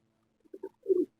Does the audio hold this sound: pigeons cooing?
yes